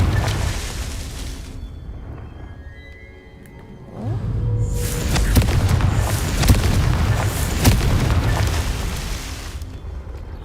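A Confringo spell blast in Hogwarts Legacy erupts as a loud booming explosion after a quieter stretch, followed by a sustained roaring rumble with crackling bursts.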